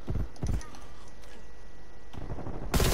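Gunfire in Call of Duty Cold War: a few sharp, punchy shots early on, a quieter gap, then renewed bursts and a loud blast at the end, with no clear talking over it.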